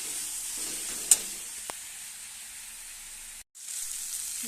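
Spices for a Bengali fish curry (macher jhal) stirred and sautéed in a pan, a steady soft sizzle with a sharp utensil scrape partway through and a brief dropout near the end, no talking.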